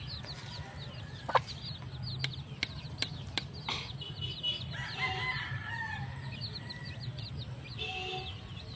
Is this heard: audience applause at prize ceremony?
no